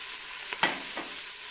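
Courgettes sizzle in hot oil inside a Cookeo multicooker pot while being stirred, giving a soft steady fry with a couple of brief scraping stirs.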